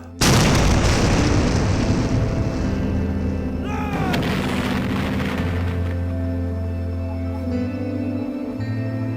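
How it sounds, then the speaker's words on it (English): Underground charges booming down coal mine pillars set off a sudden, very loud blast that rolls into a long, rumbling roar and echo, slowly fading while the heavy low rumble continues. "they call it booming the pillars. And that they boom the pillars down"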